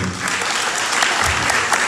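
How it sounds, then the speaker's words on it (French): Applause from a school audience at an inter-school event, a dense, even wash of many hands clapping at moderate loudness throughout. "Maintenant, nous pouvons applaudir pour nous, s'il vous plaît."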